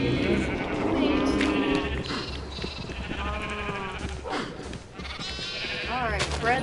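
Repeated sheep bleats from Minecraft, several rising and falling calls spread through the stretch alongside someone talking over game sounds.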